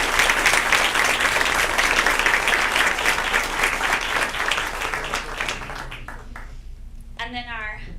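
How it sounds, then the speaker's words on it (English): Applause at a regular scheduled public meeting honoring state champion student teams, loud and sustained clapping from a room of attendees that fades out near the end as a voice begins speaking. "So let's give our round of applause to the"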